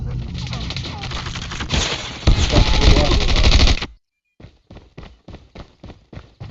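Rapid automatic gunfire in the Call of Duty Mobile video game, a loud sustained burst that cuts off, followed by a string of separate single shots.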